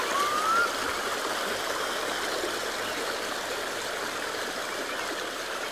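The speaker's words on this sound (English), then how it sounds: "that's the traffic on the main road to London" Traffic on a main road to London heard from Windsor Great Park in England: a steady, continuous distant roar of vehicles, fairly faint and unbroken, with one brief rising tone near the start.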